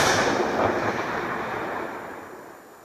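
A firecracker charge detonates inside an Asian hornet nest, leaving a loud broadband roar that slowly fades over about three seconds with no voices.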